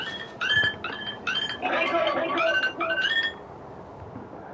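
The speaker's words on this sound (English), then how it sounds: "That's my alarm." An alarm goes off in repeated chirping bursts, several short bright beeping phrases in an irregular rhythm, fairly loud and close, then fading to quiet.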